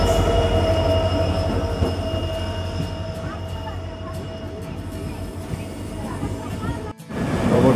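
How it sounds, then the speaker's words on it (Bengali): A passenger train running from NJP to Haldibari rumbles loudly at the station with a steady low drone and a thin high wheel squeal, then briefly cuts out before the rumble returns. "এনজিপি থেকে হলদিবাড়ি পর্যন্ত যায়, যেটা এনজিপি টু হলদিবাড়ি প্যাসেঞ্জার নামে পরিচিত"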